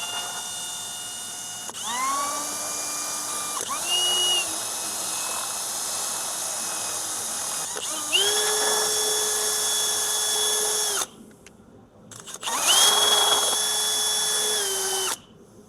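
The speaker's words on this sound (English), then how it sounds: "I 3D printed this little mixer. So I really want to mix this stuff well." A 3D-printed mixer paddle, driven by a drill, churns fibreglass resin in bursts. The motor whine rises as it spins up, holds steady, stops briefly and restarts several times, with a short gap near the end.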